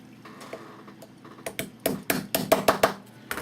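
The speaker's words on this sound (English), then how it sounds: "Alright, hammer that down." Hammer blows driving down a part on a Phoenix Models Sukhoi SU-31 model airplane build, starting as light taps and building into a run of about eight sharp, louder strikes close by, with no talk.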